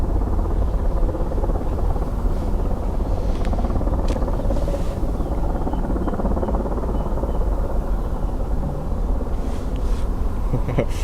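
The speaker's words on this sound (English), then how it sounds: "it's the rescue helicopter" A rescue helicopter flies near Dublin Airport, its rotor and engine making a steady, loud, continuous roar throughout, with wind noise and no clear talk.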